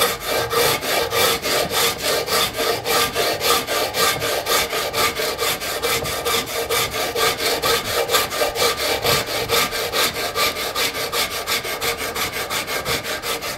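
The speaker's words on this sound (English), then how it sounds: "A rasp will take it off nice and slow." A wood rasp works steadily along a wooden Hupa/Yurok style bow, its rapid, even back-and-forth strokes giving a continuous coarse scraping that stays loud and close throughout with no talking.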